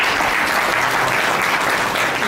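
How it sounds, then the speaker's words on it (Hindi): A church congregation at a Dayspring Church service applauding together, a loud, dense wash of clapping that holds steady throughout. "ताली में प्रभु को महिमा दें।"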